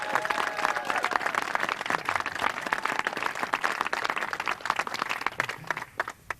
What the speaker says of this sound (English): you guys can applaud him as long as you want